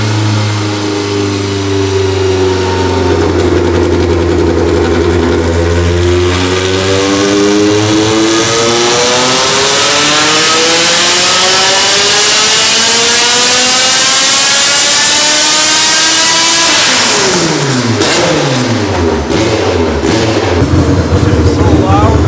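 A 350 hp naturally aspirated Honda Civic with individual throttle bodies and a hood exit revs on a dyno, its engine climbing loudly and steadily through a long pull to a screaming peak before dropping off.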